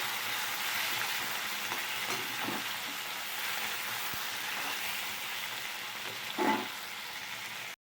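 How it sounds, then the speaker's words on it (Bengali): Tomatoes and green chillies fry in a pan, producing a continuous loud sizzle as they are stirred, with occasional scraping knocks from the spoon and no talking. "টমেটো আর কাঁচা লঙ্কা দিয়ে দিচ্ছি, নাড়াচাড়া দিয়ে একটু মশলা দেবো।"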